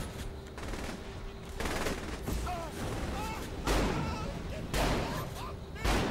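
Gunfire aimed at a vehicle's gas tank in the video game Saints Row the Third, with rapid repeated shots and several louder bursts spaced through the scene over constant game noise.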